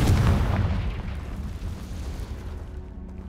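Hogwarts Legacy's Confringo spell goes off as a fiery blast, a loud low boom at the start that fades into a rumbling decay over a few seconds.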